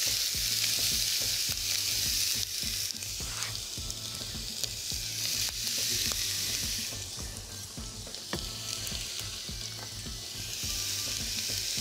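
Carrots hitting a hot roasting pan for cabbage rolls, a loud steady sizzle with repeated stirring scrapes and clicks, close-up and without voices.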